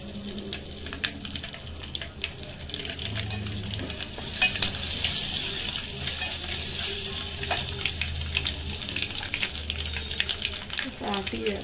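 Dry red chillies and curry leaves frying in hot oil for tomato pachadi, a loud, steady close-up sizzle with occasional scraping stirs throughout.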